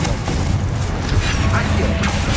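A Confringo fire spell bursts in a wizard simulator video game, a dull booming blast with crackling noise, heard together with a voice.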